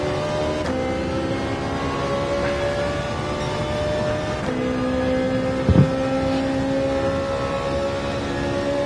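A racing car engine in Gran Turismo 7 on the Daytona road course drones at high revs and rises in pitch as it accelerates, a steady loud in-car engine note with a brief knock near the end and no talk.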